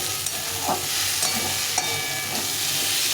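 Potatoes and spices fry for a boiled chickpea chaat, giving a steady close sizzle broken by several sharp scrapes and taps of a spoon stirring in the pan, with no talk.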